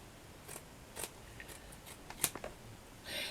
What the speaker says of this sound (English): let me find my normal scissors, cut this out.